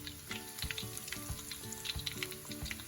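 A second batch of shrimp deep frying in hot oil, crackling and sizzling steadily up close with small bubbling pops and no voices.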